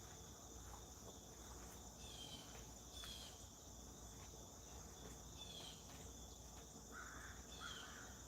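Crows caw a few times far off in the background at dawn, faint over a steady, dense chorus of crickets.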